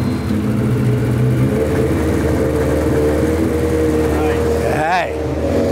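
Motorcycle engine in a LeMons racecar runs at a loud, steady idle with a droning hum, rising into a brief rev near the end, voices talking over it.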